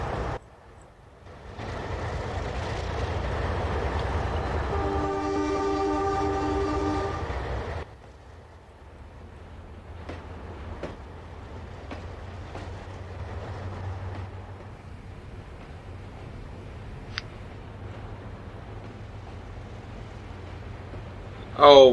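A train in a video game rumbles along the tracks and sounds a loud, sustained horn for a few seconds, then settles into a quieter running rumble with faint clanks and clicks.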